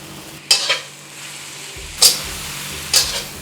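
Scrambled eggs with tomatoes and ketchup are stirred in a frying pan over low heat, with three sharp scraping strokes of the utensil against the pan standing out over a soft background.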